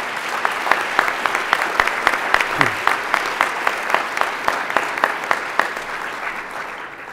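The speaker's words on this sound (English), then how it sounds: "Please stand if you're here, and a round of applause." Steady applause from an audience fills the space, with a few louder rhythmic claps standing out, continuing then slowly fading.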